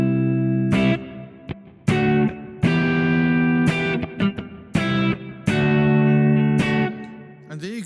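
Electric guitar played through a Strymon BigSky reverb pedal on a room setting, worship-style tone: a series of strummed chords and single notes, each ringing out with a short roomy tail before the next, close and fairly loud.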